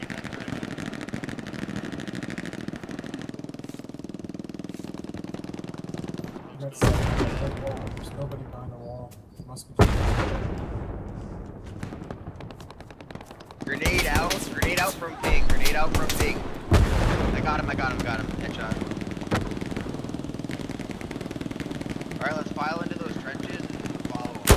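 Bursts of machine gun and artillery fire in the WWII shooter game Hell Let Loose, loud cracking volleys and rapid automatic bursts in clusters, with quieter battlefield rumble and distant shots between them.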